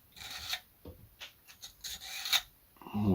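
A metal file rasps across a pruning blade during olive tree pruning, a handful of short scraping strokes coming close and clear, with a louder, denser rub at the end.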